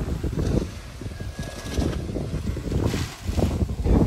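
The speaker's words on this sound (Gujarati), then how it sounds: "પવન એટલો બધો છે ને ભાઈ તો વાવાઝોડો જેવું છે" A strong storm wind roars steadily through the whole stretch, with gusty rumbling and microphone buffeting during heavy rain. No one speaks.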